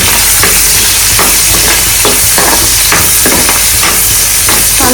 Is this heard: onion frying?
yes